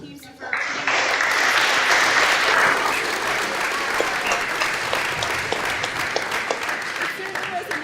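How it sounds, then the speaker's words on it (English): An audience at a senior championship game breaks into sustained applause, steady clapping from a large crowd that continues for several seconds with some voices mixed in. "let's give a round of applause to both teams"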